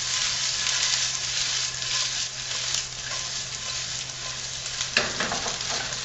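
Corned beef fries in oil in a hot skillet, a dense, steady sizzle running close and loud throughout, with a few sharper crackles and a soft stirring scrape, no voices.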